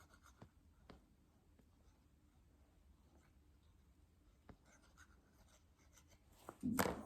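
Glue is applied to a paper card while making a bubble greeting card: faint, soft scratching strokes, some sharp ticks, and a louder rustle at the very end in an otherwise quiet room.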